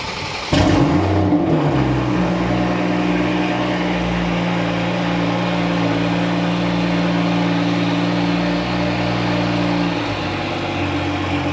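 A Toyota MK5 Supra fitted with dual fuel pumps fires up with a sharp start, then runs loudly and steadily with a deep, droning exhaust note that holds for about ten seconds before easing slightly.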